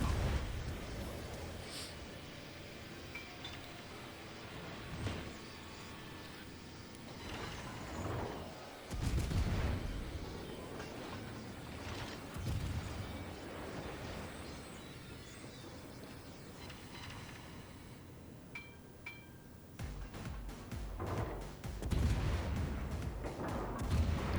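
A battleship in a naval video game fires armor-piercing shells, producing repeated heavy booming salvos over a continuous rumbling engine and ocean din, with a louder cluster of blasts toward the end.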